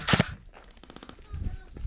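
Airsoft gun shots during a game at an abandoned cement factory in Las Vegas, a sharp pair of close cracks at the start and then a quicker, fainter burst, with voices in the background.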